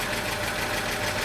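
A 1941 Chevy coupe's six-cylinder engine idling rough, a close, steady mechanical chug with an uneven ticking knock running throughout.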